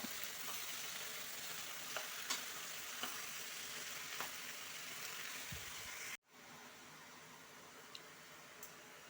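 A steady sizzle of a greens-and-beans tempering for sambar in a hot pan, with occasional light scraping clicks from stirring; no talking.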